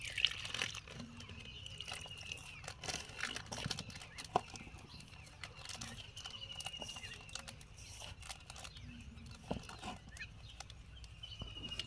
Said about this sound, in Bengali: আমি অল্প অল্প করে জল দিচ্ছি আর মাখছি